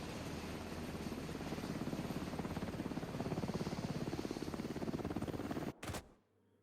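An extraction helicopter in The Division 2 drones with a steady, loud rotor chop for several seconds, then cuts off abruptly near the end.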